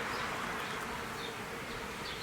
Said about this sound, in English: That's about half a frame of bees.